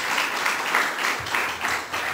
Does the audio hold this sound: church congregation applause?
yes